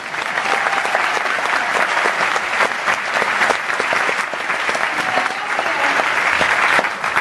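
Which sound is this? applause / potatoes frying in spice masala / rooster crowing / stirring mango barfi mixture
applause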